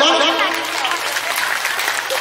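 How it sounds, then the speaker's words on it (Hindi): Applause from the audience at a church felicitation ceremony in Bramanmara Parish, a steady crowd clapping that holds at an even level throughout, with voices audible beneath it. "और एक जोर से ताली बजा दो"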